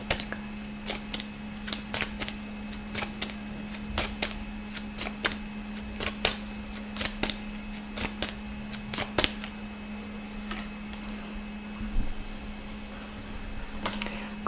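Tarot cards shuffling in rapid riffling bursts, crisp repeated flicks close to the listener over a steady low hum, no talk.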